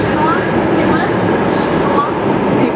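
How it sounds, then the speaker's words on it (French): A Paris metro train rumbles steadily in a constant, loud rush of wheels and car noise, with people's voices faintly mixed in. "Let me turn around so everybody can see what the French metro looks like."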